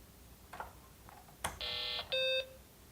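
A short electronic startup beep from a BBC Micro computer fitted with a new Meanwell power supply, followed by a second, steadier tone, with faint clicks and a sharp snap just before; clear and close.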